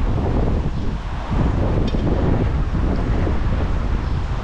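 Strong wind gusts buffet the microphone in a continuous loud roar, swelling slightly midway, with no talking.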